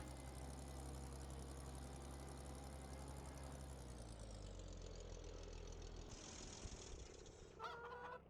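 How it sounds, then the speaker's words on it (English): Tractor engine idling in the farming game Farming Simulator 15: a steady low, quiet engine drone that thins partway through, followed by a shift in tone and a few short higher tonal bursts near the end, with no talk. "The fucking tractor."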